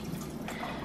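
Excess water trickles and drips off soaked crackers in a home kitchen, a soft, close, brief liquid spatter.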